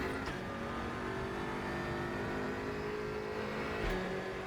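A BMW M6 GT3 race car engine in the RaceRoom racing game drones steadily at high revs, a loud continuous mechanical roar with layered tonal whine and no talking.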